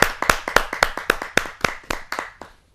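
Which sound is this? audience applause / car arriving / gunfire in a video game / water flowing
audience applause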